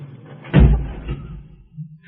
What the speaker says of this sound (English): Lock the door, Gail.